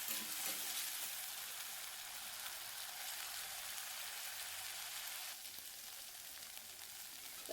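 Onion and tomato fry in a pan with a steady, broadband sizzle that holds evenly throughout, dropping slightly in level near the end as the stirring continues.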